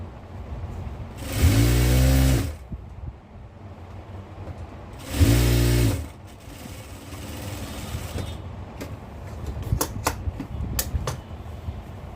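A sewing machine stitching a petticoat runs in two loud bursts of about a second each, separated by quieter handling of cloth and a few sharp clicks near the end.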